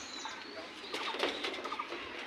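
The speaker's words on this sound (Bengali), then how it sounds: "আর দেখেন এই খামারের কবুতর কত হচ্ছে।" Pigeons coo softly on a free-range pigeon farm, with faint, scattered calls and a brief flutter against steady background hiss.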